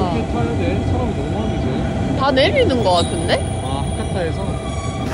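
A train stands at a station in Japan, with a low rumble and hum, a burst of squealing, screeching brakes midway, and people talking over the noise throughout.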